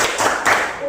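Children in a classroom clap briefly for a student who answered a maths question correctly, a short burst of hand claps with voices mixed in.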